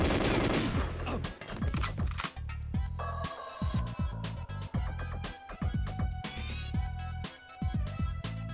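Gun turrets fire in GoldenEye 007, a dense string of loud, rapid game gunshots in bursts that keep going, layered over electronic tones, with no talking.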